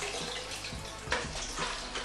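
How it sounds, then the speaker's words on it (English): Water drains and trickles from an old fish tank filter being emptied, a close, gurgling splash with uneven surges and a brief louder spurt midway. "the filter will hold water for a certain amount of time afterwards. It's still trying to drain."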